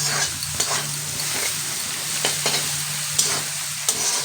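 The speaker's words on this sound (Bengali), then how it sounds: "এবারে আরেকটু নাড়াচাড়া করে নিয়ে তারপরে আমি দিয়ে দেবো মাটনটা" Spices frying in a pan ahead of mutton being added, a steady sizzle with a spoon scraping and stirring through it at irregular intervals, close up, with no voices.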